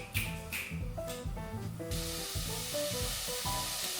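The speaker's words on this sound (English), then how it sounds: "Give it a stir." Frozen vegetables frying in olive oil are stirred in a pan, giving a close, steady sizzle with scraping stirs under a backdrop of music.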